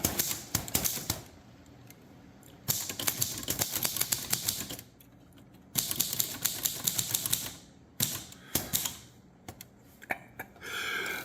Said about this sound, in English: This is a Spanish italic typewriter.